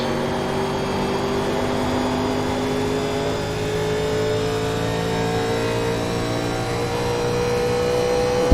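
NASCAR 1987 Legends race cars lapping Nashville in the iRacing video game, with a loud continuous engine drone whose pitch climbs slowly under acceleration and several overlapping engine tones, no talk.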